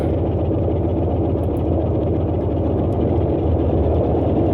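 A Boeing 247's radial engines run in Microsoft Flight Simulator 2020, a steady, loud, low rumbling drone with a throbbing rhythm and no change in level throughout.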